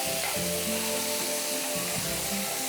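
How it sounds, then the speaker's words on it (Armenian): Cauliflower is stirred in a hot pan, a dense, close sizzle of frying with scraping stir strokes running through it, and no voices. "Հիմա մենք խառնենք ծաղկակաղամբին։"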